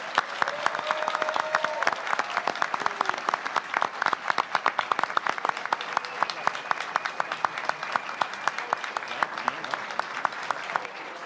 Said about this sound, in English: let's give a hearty round of applause for both candidates.